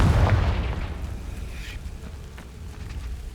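A Confringo blasting spell explodes in Hogwarts Legacy with a deep, close boom at the start that fades into a rumbling, windy tail.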